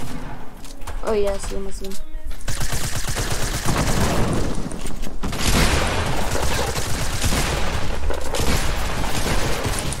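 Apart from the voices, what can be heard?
gunfire from Fortnite video game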